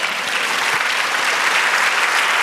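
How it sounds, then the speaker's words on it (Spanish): Church congregation giving sustained, even applause during a sermon, steady dense clapping throughout with no talk. "Dale aplauso al Señor"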